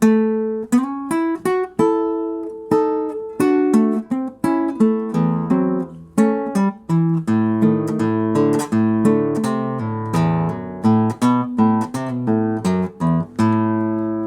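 A twangy guitar plays a quick picked lick, bright plucked notes and bending runs moving along briskly, clean and solo.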